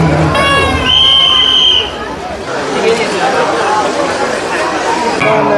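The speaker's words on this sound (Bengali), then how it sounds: "প্রচুর লোকের ভিড়" A large crowd mills around a Durga Puja pandal in South Kolkata, a loud and continuous murmur of many voices, with a nearby voice standing out briefly near the start.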